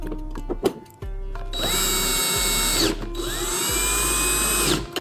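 A power drill drives screws while a TV wall mount is installed, giving two sustained whirring runs with a short pause between, close and loud, with no talking.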